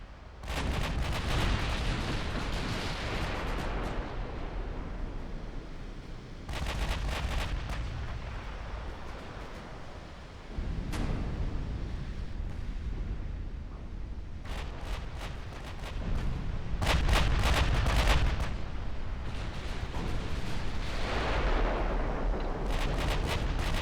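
Thirteen- and fourteen-inch battleship guns fire in the naval game Ultimate Admiral Dreadnoughts, heavy booming salvos repeating every few seconds over a constant rumbling battle backdrop, loud and close, with no talking.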